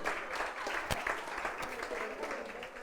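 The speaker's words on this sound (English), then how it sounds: "Give them another round of applause." A crowd at an evening magic show applauds in a thick, sustained rattle of clapping, fairly close and steady, with one sharp clap standing out and a few voices faintly mixed in.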